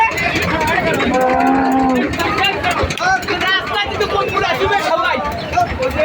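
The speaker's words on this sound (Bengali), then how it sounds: "আজকে প্রচুর গরু আমদানি হচ্ছে, আজকে প্রচুর গরু আসতেছে" Cattle at a busy roadside cattle market ahead of the Eid sacrifice season, mooing loudly and close by in long drawn calls over a background of crowd chatter and passing traffic.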